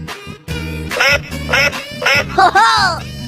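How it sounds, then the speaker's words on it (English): A duck quacks several times in quick succession over a steady low musical background, the calls fairly loud and close, while a voice speaks briefly between them. "Duck."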